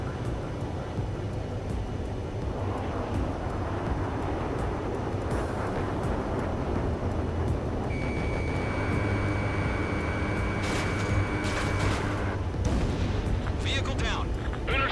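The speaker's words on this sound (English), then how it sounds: "Fire the AA!" Anti-aircraft fire and explosions in a jet combat video game: a dense, continuous roar of booms, blasts and jet noise, with sharper bursts and tonal alarm-like sounds joining in the second half.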